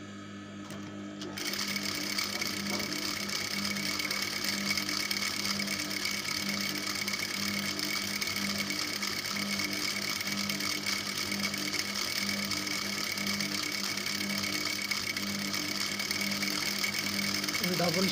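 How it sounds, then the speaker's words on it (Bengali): A sewing machine runs a double stitch on a child's skirt, starting after a brief pause and then whirring steadily and close for the rest of the time. "এখানে আমি ডাবল সেলাই দিয়ে নেব।"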